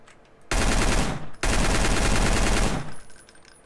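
Two long, loud bursts of automatic rifle fire in the shooter game Escape From Voyna, close and dense, separated by a brief pause and followed by quieter rattling.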